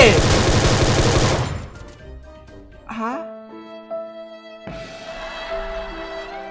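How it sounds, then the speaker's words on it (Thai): Gunfire in the Free Fire battle royale game: a dense, loud burst of automatic shots for about two seconds, then quieter game effects and tones, with another burst of firing near the end. "ผมยิงพี่ตั้งเยอะแยะ เหมือนผมยิงพี่ไม่เข้าเลยเนาะ"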